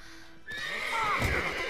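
A horse in The Witcher 3 gives one loud, clear whinny that rises and wavers, breaking out of near silence, with a faint clip-clop beneath it.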